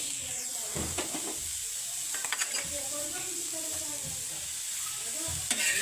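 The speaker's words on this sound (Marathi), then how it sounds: "कांदा भाजून घेते" Onion frying in oil in a pan while being stirred, with a steady sizzle throughout and occasional scrapes and clinks of the spoon against the pan.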